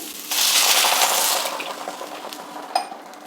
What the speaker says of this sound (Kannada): ಈಗ ಒಂದು ಗ್ಲಾಸ್ ನೀರು ಹಾಕಿಟ್ಬಿಟ್ಟು ಬೇಯೋದಕ್ಕೆ ಬಿಡ್ತೀನಿ